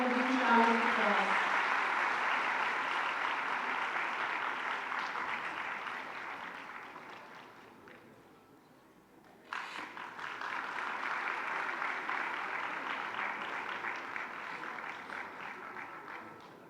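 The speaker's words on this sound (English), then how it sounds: "Please give them a big round of applause." Graduates at the Benazir Bhutto Women's University convocation receive broad audience applause that slowly fades nearly to silence, then a fresh burst of clapping starts and carries on steadily to the end.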